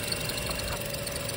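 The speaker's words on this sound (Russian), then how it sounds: "Шумит подшипник на натяжителе" A Toyota Auris (E150) engine idles quietly with a worn, noisy tensioner bearing, giving a steady hum with faint high whining tones above it. No talking.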